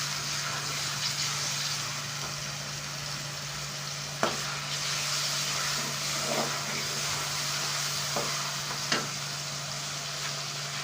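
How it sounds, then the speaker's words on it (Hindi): Onion paste frying in a pan while being stirred, a continuous dense sizzle with a few sharp utensil scrapes and a low steady hum underneath. "प्याज को मिक्स करते रहें।"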